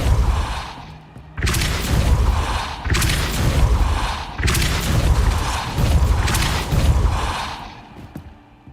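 Repeated Depulso spell casts in the video game Hogwarts Legacy: several loud, booming whooshes in a row, each a short burst with a brief gap between them.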